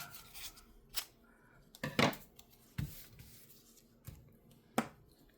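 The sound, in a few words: cutting a slice of blue paper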